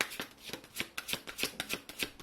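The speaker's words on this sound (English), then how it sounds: "I just shuffle it here if you don't mind." Tarot cards shuffled by hand in a rapid run of crisp riffling flicks and soft slaps, close and fairly quiet, with no talking over them.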